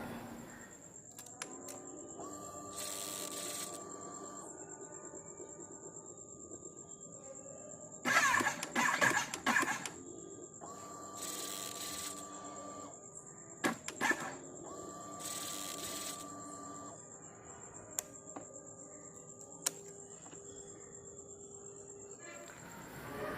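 A Kawasaki ZX10R motorcycle starter cranks on a drained battery in several short bursts that never catch, between steady hum and chirping insects at night.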